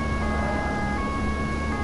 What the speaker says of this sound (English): You hear my sirens